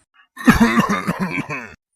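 A cartoon character coughs in a short rough burst, a few harsh hacking pulses running together for just over a second, close and fairly loud, alone with no other sound.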